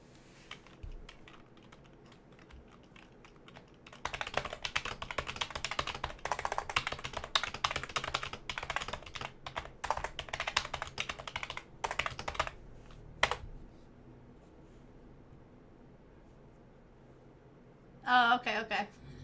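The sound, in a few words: fast typing on a computer keyboard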